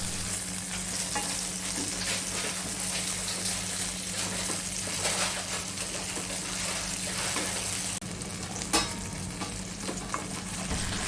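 Brinjal sizzles in hot oil in a pan, a steady frying hiss with occasional scraping stirs and a brief clatter, close and continuous.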